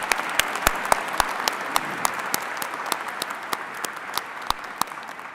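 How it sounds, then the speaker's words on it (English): A commencement crowd applauds students in a large hall, a steady wash of clapping with sharp individual claps standing out near the microphone at irregular intervals. "Let's give both of them a round of applause."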